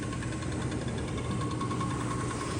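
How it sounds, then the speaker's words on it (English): A motor runs with a steady, even hum and faint vibration, close and continuous throughout the short stretch. "this guy turns on the motor"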